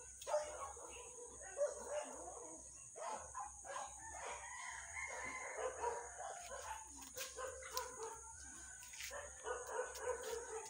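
Stray dogs barking outdoors in the early morning in a neighborhood of Iligan City, Philippines, with repeated barks, a rooster crowing, and other birds around a constant high electrical whine.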